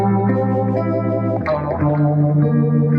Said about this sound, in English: uni-vibe effect, you know